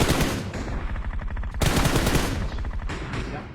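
Rapid automatic gunfire from the PUBG Mobile video game, loud dense bursts of shots in quick succession with a brief gap before firing resumes.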